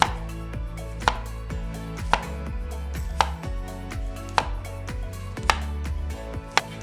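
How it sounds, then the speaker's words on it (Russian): A knife chops a banana into small pieces on a cutting board, giving a steady run of sharp, close knocks about once a second with a low background hum between them. "Вырезаем его на мелкие кусочки."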